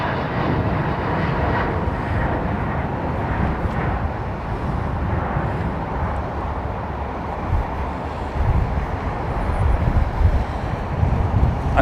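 A Boeing 737 MAX airliner with geared turbofan engines roars steadily at London Heathrow Airport, a loud, broad continuous jet rumble with some wind noise on the microphone, swelling slightly toward the end.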